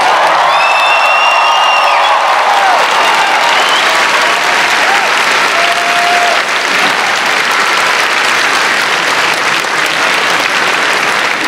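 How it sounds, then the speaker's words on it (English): Convention crowd at a comic con panel applauding and cheering, a dense sustained wash of clapping with scattered whoops, loud and close throughout. "by a little bit of applause, how many think these guys should have a cameo in it?"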